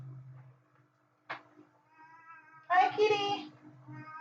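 A house cat gives a short chirp, then a louder drawn-out meow, with faint background hum and a voice speaking softly nearby.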